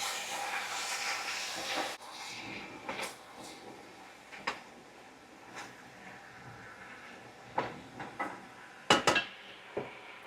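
Squash sauteed in a pan for dinner, stirred with a utensil: soft hiss of steam under scattered scrapes and clinks of metal against the pan, with a few sharper knocks near the end.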